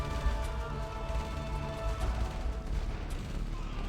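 A tank siege in the real-time strategy game Dune 2000 produces a dense, continuous wash of crackling gunfire and distant explosions. The clashes overlap without pause at moderate loudness, and no voices are heard.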